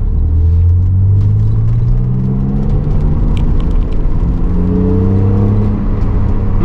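A BMW Z3 3.0i engine droning steadily while driving, with rising and falling rumbling harmonics as it revs through gears, loud and close throughout with no talking.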